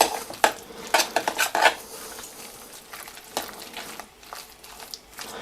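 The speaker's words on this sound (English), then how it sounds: "Now that all of that is in the bowl, you just mix this up a bit." Food for a vegan meal being mixed in a bowl, a burst of clinking, scraping utensil strokes early on, then quieter intermittent stirring knocks, close by with no talking.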